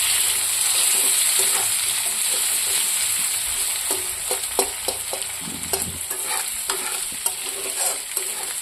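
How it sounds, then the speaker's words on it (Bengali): Onions sizzle and fry in hot oil with bay leaf in a kadai, a steady close hiss broken by irregular scraping clinks as a spatula stirs them. "খুব লাল লাল করে ভাজা করে নেব।"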